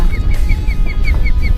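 Osprey on its nest at twilight near a New England harbor, giving a steady series of short, high, repeated warning chirps at an even rhythm, clear and fairly close, with a low rumble of wind or water underneath.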